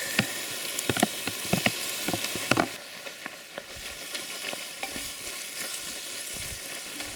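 Food stirred and frying in a cauldron in the mountains, tomatoes going into oil with paprika and cabbage, with a soft steady sizzle and scattered stirring clatters, busier at first and calmer later.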